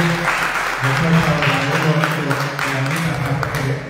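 Audience applause at a municipal council session, steady clapping filling the room with voices talking over it throughout.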